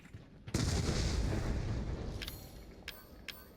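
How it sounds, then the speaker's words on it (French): A grenade going off in the horror game Resident Evil 7, a sudden loud boom followed by a long rumbling decay, with a few sharp clicks and clatters near the end. "j'ai niqué une grenade pour rien là"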